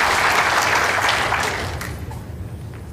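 A crowd at the World Indoor Bowls Championships applauds a shot with a dense burst of clapping that starts full and gradually thins out over a few seconds.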